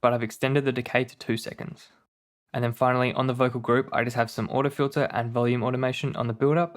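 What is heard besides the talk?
None of the usual background noises is heard.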